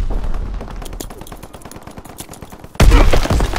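Strafing-run gunfire in Call of Duty: WWII on the Shipment 1944 map during a Domination match, a long rapid burst of machine-gun fire that suddenly swells into a louder, denser roar of impacts near the end, with no talk.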